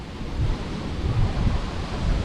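Fast water pours through a spillway in a continuous, dense rushing roar, loud and close, with rumbling low-end surges and some wind buffeting on the microphone.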